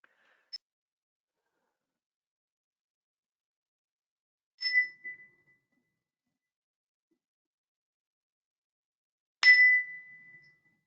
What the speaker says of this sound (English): thank you for that bell chime, Summer.